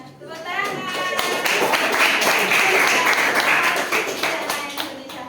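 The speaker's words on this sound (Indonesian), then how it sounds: "Tepuk tangan." Schoolchildren in an Indonesian classroom clap their hands together in a loud burst that swells and fades, with young voices chanting along.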